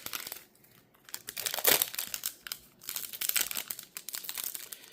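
Crinkling plastic wrapper of a Magic: The Gathering Modern Horizons 2 booster pack torn open by hand, a close, loud run of crackles and crunches with bursts of tearing, no talk.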